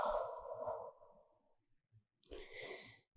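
A long, deep exhale during a yoga class, breathy and close, fading out slowly, then after a short quiet gap a second breath starts and builds.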